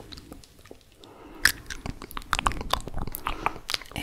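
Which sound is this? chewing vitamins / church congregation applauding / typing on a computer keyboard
chewing vitamins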